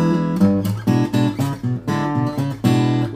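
Fingerstyle acoustic guitar plays a rock and roll rhythm with a walking bass line, bright plucked chords and thumping low notes repeating in a steady, punchy pattern, close and loud.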